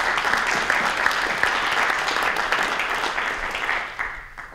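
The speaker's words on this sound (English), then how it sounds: "If I can give you a round of applause," An audience at a regular session of the Orange County, New York legislature gives a sustained round of applause honoring firefighters, steady dense clapping that fades slightly at the end.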